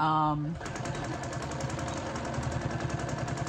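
A sewing machine stitching along the edge of an apron to close its opening, a rapid, even mechanical whir of needle strokes running steadily after a brief tone at the start, with a voice talking over it.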